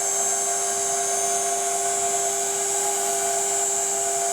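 A CNC machine's stepper motors whine at a steady, sustained pitch, with a bright hiss from the cutter during a heavy cut on a jewelry box. The sound is continuous and moderately loud, with no talking.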